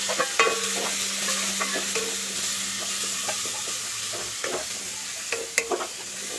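Chopped onions and tomatoes sautéing in oil for a drumstick leaf dal sambar, a continuous soft sizzle under repeated scraping and stirring of a spoon against the pan, close and steady with a few sharper knocks.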